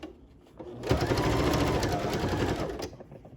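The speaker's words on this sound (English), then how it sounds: "Lay it on down and keep on stitching." A sewing machine stitches fabric for a handmade skirt in a steady, loud mechanical run of about two seconds, starting after a quieter lead-in and trailing off at the end.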